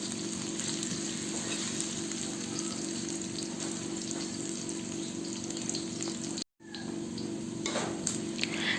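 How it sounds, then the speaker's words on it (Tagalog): Chopped onion and garlic sautéing in a pan, a steady close sizzle and fry that runs unbroken for several seconds, cut by a brief total dropout before the sizzle resumes. "Lutuin lamang natin ito ng 1 minuto or hanggang sa lumambot na ang sibuyas at bawang."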